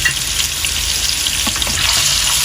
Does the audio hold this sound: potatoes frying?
yes